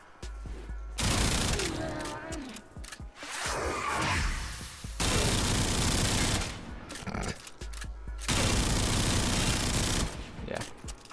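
Kuva Karak rifle firing in rapid bursts in the video game Warframe, loud sustained automatic gunfire in several long volleys separated by short pauses.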